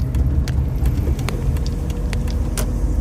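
An Audi car driving along a road, heard from inside: a steady, moderately loud low engine and road rumble with faint intermittent ticks and clicks, no talking.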